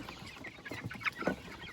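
Chickens and young chicks cluck softly in a farmyard, a few short faint clucks and peeps over low outdoor background.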